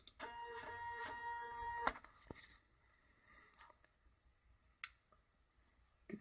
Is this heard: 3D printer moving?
yes